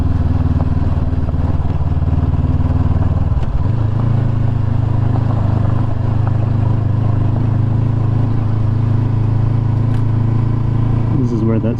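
A motorcycle grinding along in super low first gear on a rough trail, its engine droning steadily and loud close to the rider, with wind buffeting and a brief rattle midway.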